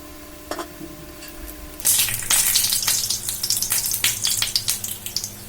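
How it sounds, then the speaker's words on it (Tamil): Masala vada made from ration-shop toor dal fries in hot oil, a loud steady sizzle with crackling pops that starts abruptly and continues close up. "ரெண்டு பக்கமே நல்லா ஃப்ரை ஆயிடுச்சு நம்ம எடுத்துடலாம்"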